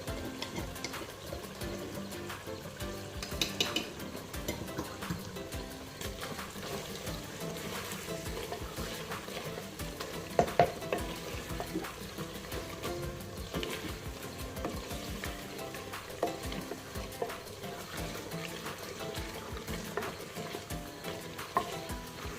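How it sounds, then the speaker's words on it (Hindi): Food sizzles steadily in a hot pan while liver with garlic and ginger paste is stir-fried, with a constant crackle and occasional scraping clicks and no talking. "बहुत ही अच्छी तरह भूनेंगे।"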